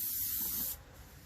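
A close, steady hiss of brake cleaner sprayed over a Ford Focus rear brake rotor lasts under a second, then stops, leaving quiet background.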